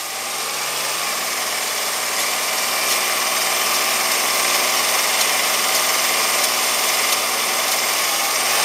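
Rally raid vehicle engine running at steady high revs, a loud continuous roar with a constant drone throughout and no voices.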